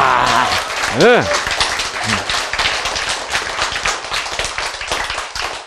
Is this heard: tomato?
no